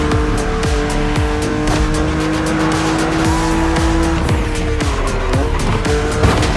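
BMW Z roadster racing in The Crew Motorfest, its engine loud and steady with gear-shift pitch drops, tire squeal and skids, and repeated sharp knocks as opponent cars pass, with no talking.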